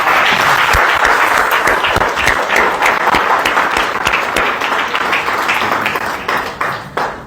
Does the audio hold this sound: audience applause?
yes